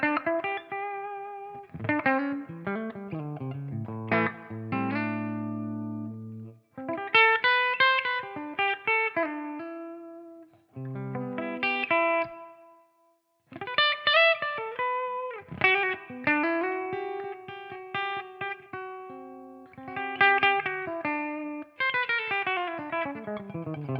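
Gibson SG electric guitar played clean through the bridge pickup with light compression and reverb, bright chords and picked phrases in bursts with short pauses, played alone.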